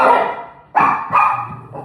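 Dogs bark in loud, close bursts: one long bark trailing off, then two sharp barks in quick succession, with no talk over them.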